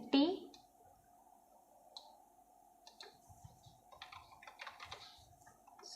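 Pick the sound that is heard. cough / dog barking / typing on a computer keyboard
typing on a computer keyboard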